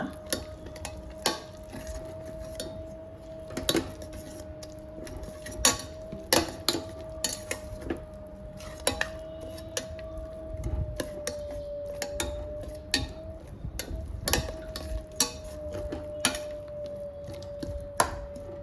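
Gongura chutney (pachadi) being stirred in a pan as it cooks down, with regular spoon scrapes and taps against the pan bottom at a steady, moderate pace and no talk.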